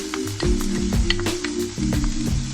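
Vegetables sauté in a pan before salmon patties are made, producing a nearby crackling sizzle over a steady low hum, with a few soft bursts as the pan is moved.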